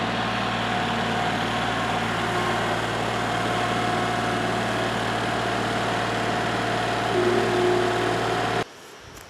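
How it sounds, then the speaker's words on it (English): A Kubota L3301 HST diesel tractor idles outdoors near a muddy shoreline, a steady low drone with constant hum and slight swell toward the end before cutting off abruptly. "we're going to try to get the tractor in over here"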